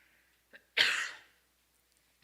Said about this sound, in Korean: 후유증이 가시질 않아서 계속 기침이 나오네요.